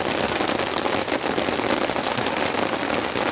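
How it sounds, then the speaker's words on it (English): Heavy rain pours steadily onto a tent and campsite during a rainstorm, a dense, loud, unbroken hiss of drops with no voices. "this rain is next level"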